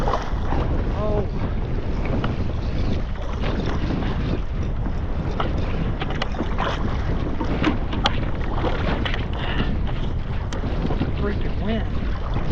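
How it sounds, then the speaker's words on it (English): Strong wind buffets the microphone on a lake while fishing from a boat, a loud continuous roar with water splashing against the hull throughout. "Freaking wind."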